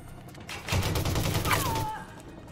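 A rapid burst of gunfire against a commando's shields in the video game Elite Dangerous Odyssey, a rattling volley lasting about a second and a half, followed by a short descending electronic whine.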